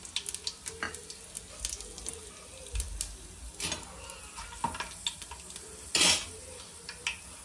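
Whole spices crackle in hot oil for omelette biryani, with frequent sharp pops and clinks of a utensil against the pan, one louder burst of sizzle near the end, close and without talking.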